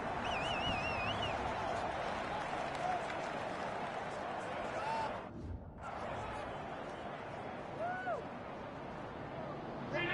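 Crowd in a Madden 21 American football video game roars and cheers after a playoff win sends the Bills to the Super Bowl, a loud, dense, continuous wall of applause and shouting with a brief dip midway.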